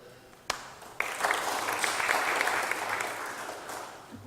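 An audience applauds at a mayor's press conference: a brief clap, then sustained clapping from a roomful of people for about three seconds before it thins out, moderately near and without talk.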